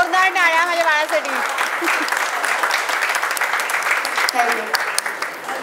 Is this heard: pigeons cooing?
no